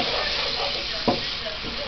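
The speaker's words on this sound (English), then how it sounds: "I'm gonna put the salt and pepper and mix that up" Onion and garlic fry with a steady close sizzle as salt and pepper are stirred in, with one brief scrape of the spoon partway through.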